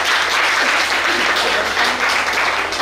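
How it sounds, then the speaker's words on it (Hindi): Loud, sustained audience applause at an event honouring a child on stage, a dense unbroken wash of clapping throughout with faint voices mixed in. "एक बार जोरदार तालियों के साथ"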